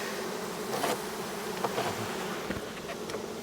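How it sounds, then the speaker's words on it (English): Dense, steady buzzing of many honey bees close by, a continuous insect drone with occasional louder passes of individual bees. "So now let's get these bees off here."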